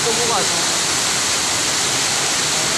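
Floodwater rushing after a landslide, with the swollen current carrying mud and rocks: a loud, steady broadband roar that fills the whole clip, with a brief trace of a voice near the start.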